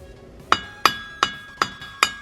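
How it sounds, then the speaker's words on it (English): A BMW E46 engine part being tapped and pried loose during engine removal for an LS3 swap: five sharp, close metallic hammer taps at a steady rhythm, each ringing briefly before fading. "I'm going to tap it and pry it off a little bit so it's easier to take off"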